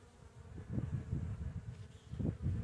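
Honeybees buzz around the hive entrance as foragers return loaded with pollen, a soft swarm drone that swells and fades in uneven pulses, fairly quiet and with no talk.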